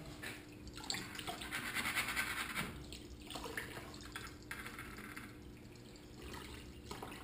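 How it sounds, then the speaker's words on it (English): Water runs and splashes steadily as a small gold trap from a six-inch sluice is washed out, with a louder gushing stretch near the start and a softer continuous trickle afterward, no voices. "I'm gonna wash out my little gold trap there."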